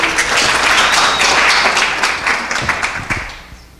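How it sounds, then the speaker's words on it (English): Audience applause at a pitch event for a startup presenter, loud and dense with a cheer in it, fading gradually toward the end. "Round of applause, everybody."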